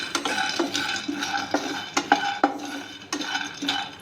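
Peanuts frying in a pan for mango and green chilli chutney, stirred with a spoon that scrapes and clinks against the metal in an irregular rhythm, close and moderately loud with no talk.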